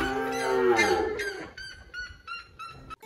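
Cattle on a farm moo in several long, loud calls close by, followed by a series of shorter, sharper bellows and calls at irregular intervals.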